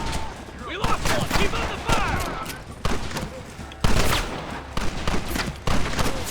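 Rapid bursts of gunfire from a weapon in Red Dead Redemption, loud and close, with repeated volleys and reload clatter, while someone talks over the shooting.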